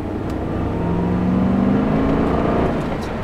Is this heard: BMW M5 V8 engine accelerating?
yes